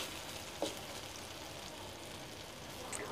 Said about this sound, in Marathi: लवंग, दालचिनी, काळी मिरी आणि 1 वेलची, ते घालून घेऊया. आणि ह्याला 1-2 सेकंद फक्त परतून घेऊया.